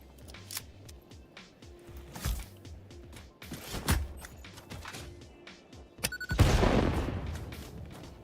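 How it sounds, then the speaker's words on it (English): Explosions in the video game Satisfactory: a string of sharp bursts and booms through the clip, ending in a loud, long blast near the end that decays into a rumbling roar. "You need to go bye-bye by way of explosions."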